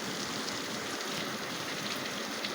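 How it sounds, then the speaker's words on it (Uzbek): Steady rain falling and pattering on surfaces outdoors, a dense continuous hiss at even loudness with no voices. "Vap vap vap yomg'irni qaranglar a, yomg'irni yog'ishini."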